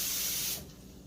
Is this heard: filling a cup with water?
yes